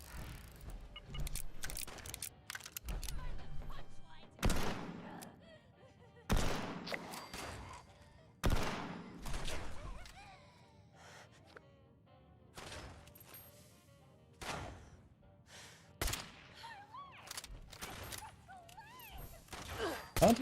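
Gunfire in Fallout 76, sharp bursts at irregular intervals, some loud and near, others fainter, with game sound effects between the bursts.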